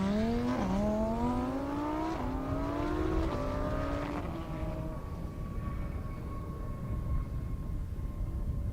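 A 2,000-horsepower drag racing car roars through several rapid gear shifts on a half-mile airstrip, pitch climbing and dropping with each shift, then fades to a steady distant drone.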